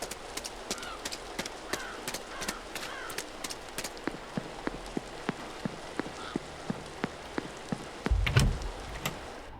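Rain falls steadily in The Séance of Blake Manor game, a constant soft patter under regular, evenly spaced clip-clop knocks, with a brief louder thump near the end.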